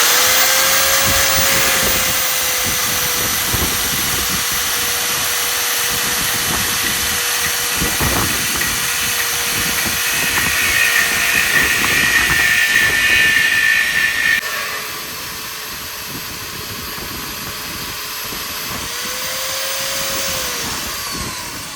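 Power tool cutting steel beams for a solar array outdoors in wind, a loud sustained high whine and grinding roar lasting about fifteen seconds, then dropping to a lower steady drone.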